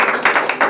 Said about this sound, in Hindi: परमेश्वर के लिए जोरदार ताली बजाएं